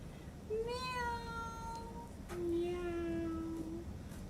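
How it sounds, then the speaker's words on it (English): A cat gives two distinct meows, the first rising and the second a longer, steadier cry, both fairly soft over a low background hiss. "It's only a cat."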